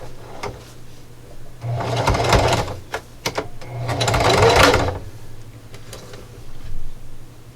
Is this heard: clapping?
no